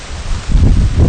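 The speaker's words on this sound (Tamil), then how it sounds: "காத்து பயங்கரமா அடிக்குது" Strong wind blusters outdoors at a village cooking spot, as loud buffeting rumble against the microphone, rising in gusts over about a second with no talking.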